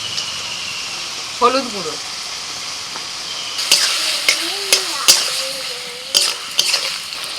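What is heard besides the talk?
chopped tomatoes frying in hot oil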